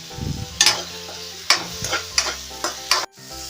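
Onion and tomato frying in a pan for a Tamil-style egg curry, a low steady sizzle broken by several sharp spoon scrapes and stirring knocks at irregular intervals, close and alone.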